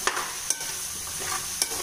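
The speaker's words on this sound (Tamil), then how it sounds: "இது நல்லா பிரட்டி விட்டுக்கலாம்." Bottle gourd and rice mixture being stirred in a frying pan, with a soft continuous sizzle and a few short scraping strokes of the spoon against the pan, close and alone.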